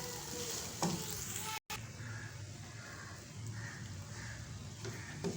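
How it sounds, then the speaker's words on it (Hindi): A dal and spinach mixture sizzles softly as it fries in a pan, a steady low hiss with faint stirring scrapes throughout. "अब हम इसको 2 से 3 मिनट भूनेंगे।"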